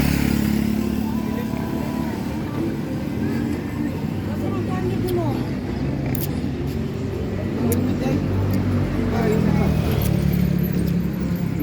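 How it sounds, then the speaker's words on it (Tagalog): Motorcycle traffic on a busy highway in the morning, a continuous loud engine drone and road rumble with passing vehicles, heard steadily from nearby for the whole stretch. "Ang ingay ng motor."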